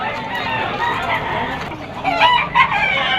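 A bull stag rooster crows loudly at a busy Malabon pet market, its call rising over constant crowd chatter and other fowl clucking nearby, with someone talking in the mix.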